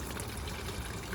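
Transmission fluid pours steadily from the drain of a 2017 Honda Pilot, a continuous even gushing wash with no pauses, moderately loud and close.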